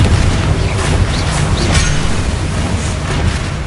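A Confringo blast spell goes off in Hogwarts Legacy as a sustained, loud, rumbling explosion that fills the whole moment with a dense, roaring wash and no clear pauses.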